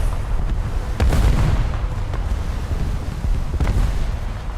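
Warship rear turrets firing in a naval video game, heavy low booms with a couple of sharp reports over a steady deep engine and sea rumble.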